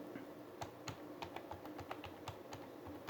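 Quiet, close clicking of a computer keyboard being typed on, irregular bursts of sharp keystrokes with no speech.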